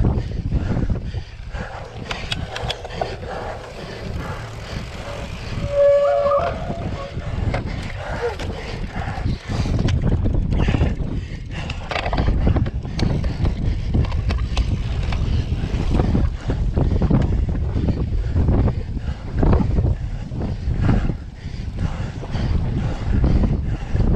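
Strong wind buffeting a microphone outdoors at a 2019 EOCX men's race, a continuous heavy low rumble that gusts and swells throughout with no talking.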